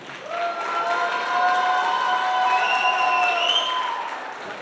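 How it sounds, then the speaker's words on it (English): Audience applause for the final contestants, the youth of a parish group, at a church dance evening in Nashik, a steady wash of clapping that holds for several seconds with bright sustained tones ringing above it. "please give them a huge round of applause"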